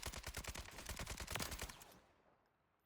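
Rapid automatic fire from a Kastov 762 rifle in Warzone, shot from a crouch at range: a dense, loud, near string of about twenty rounds over two seconds, then it stops and fades into a short tail.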